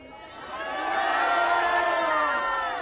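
A large crowd at a rally cheers and shouts, the roar swelling from moderate to loud and holding steady, distant voices blending into one sustained wave.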